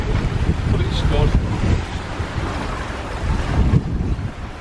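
Sailboat under way in a choppy, lumpy sea off Turkey, heading for Leros at about 6.5-7 knots in 16 knots of wind: steady loud wind rush buffeting the microphone, with waves sloshing along the hull.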